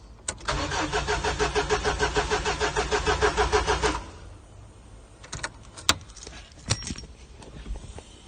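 Rover car engine cranking with rapid rhythmic starter pulses for about four seconds, then stopping, followed by quiet clicks and faint rattles nearby.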